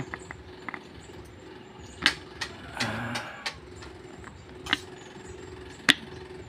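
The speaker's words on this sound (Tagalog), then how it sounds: "yung kanyang motor ng oil cooler" A small electric oil cooler motor on a turbocharger intercooler setup runs with a steady, even hum, broken by scattered sharp metallic clicks and taps from nearby handling. No one speaks.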